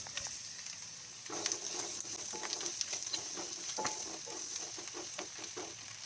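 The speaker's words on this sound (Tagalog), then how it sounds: "Kapag natunaw na ang butter, gisahin na ang bawang." Garlic sautés in melted butter in a pan with a steady, close crackling sizzle. Scattered clicks and pops from stirring come through, with no talk over it.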